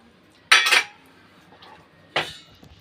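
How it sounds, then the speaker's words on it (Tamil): Two sharp clattering impacts into a bowl, a burst then another a moment later, like ice cubes dropped in, with quiet between. "அது கூடவே 1 10 ஐஸ் க்யூப்"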